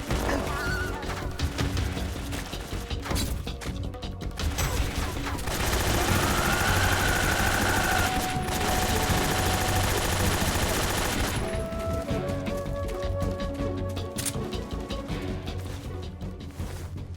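Sustained rapid gunfire from emptying a full magazine in the stealth game Metal Gear Solid 3, a dense loud barrage of shots and crashes with game music and effects mixed in throughout.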